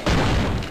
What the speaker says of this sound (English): the explosion does cause a lot of damage